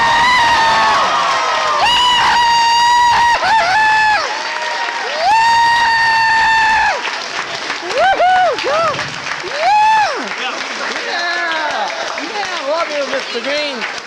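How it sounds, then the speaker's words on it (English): Guests at a youth soccer team banquet give a loud round of applause, with excited shouts, whoops and cheers rising above the clapping. "I want an extremely huge round of applause for our #1 fan."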